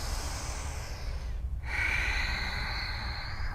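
A single long, audible breath held through a yoga pose in a studio class, with a brief pause in the middle before a strong, steady airy exhale continues close to the mic.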